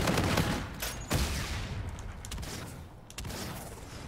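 Rapid bursts of gunfire from the shooter game Infinite Warfare, continuous and loud across the whole stretch, with brief sharper peaks and slight dips between volleys.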